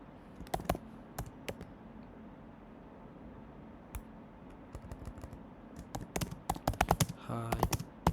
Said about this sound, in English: Now type your message in the text input field within the mini-chat console